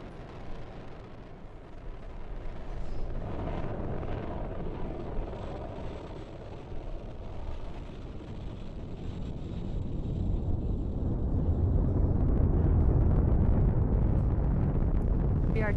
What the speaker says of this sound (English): we are currently firing all 9 of those M1D engines